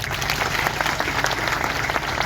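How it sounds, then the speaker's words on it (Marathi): A crowd at a kirtan event claps together in steady, dense applause, loud and close, filling the whole short stretch without any talk. "सगळी आमची लेकरं यांच्यासाठी एकदा टाळ्या वाजवा"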